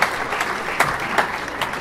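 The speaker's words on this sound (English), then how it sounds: "give yourself a round of applause" An audience at a small-house conference closing session applauds in a loud, dense wash of clapping that holds steady from start to finish.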